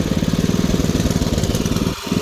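An AL-KO MH 5065 R gasoline garden tiller with a Briggs & Stratton 208cc engine runs close by, loud rhythmic chugging at higher speed with a quick dip in pulse near the end.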